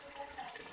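Water pours into a pot of homemade chicken curry (chicken salan) after the meat has been browned: a brief, steady splashing gush at close range with no voices.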